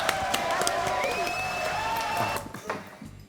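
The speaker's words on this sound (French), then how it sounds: "Allez, applaudissements pour Seb." A studio audience on a French TV show applauds and cheers for Seb, a steady burst of clapping mixed with voices and tones that fades near the end.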